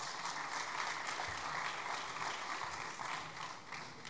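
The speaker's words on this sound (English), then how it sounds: "A huge round of applause for our table tennis players." An audience at a school sports awards ceremony gives a round of applause for table tennis players, a dense, continuous wash of clapping that stays even and rather faint, as if heard from across a hall.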